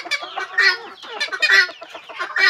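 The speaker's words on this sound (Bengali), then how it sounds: "তো এটা হচ্ছে মুরগি আর এই দুইটা হচ্ছে মোরগ।" Fancy-breed hens and roosters cluck in a farm pen, with dense, overlapping, close and fairly loud clucks and chatter running continuously. No one speaks.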